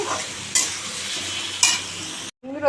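Bottle gourd and potato curry with a few green peas sizzling in a pan, a steady loud fry with two sharp stirring scrapes, then a brief cut and the sizzle resuming, no talking.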